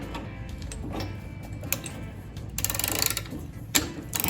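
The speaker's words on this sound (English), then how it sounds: "So now, let's just torque it down." Torque wrench tightening a bolt on an EMPI bench-top engine stand for a 1971 VW Super Beetle restoration, a close series of mechanical ratcheting clicks and metallic ticks in quick bursts, no talking.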